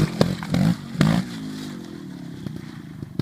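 A KTM Freeride 250R trials motorcycle ridden by a national trials champion blips its engine in three short, loud bursts, then settles into a lower idle with scattered clatter and scraping.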